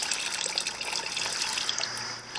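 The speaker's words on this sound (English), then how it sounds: "I'm going to pour off some. Try not to pour off any seeds." Liquid poured off a container of tomato seeds and pulp steeped for seed saving, a steady close trickle of watery pouring that runs the whole time with no talk.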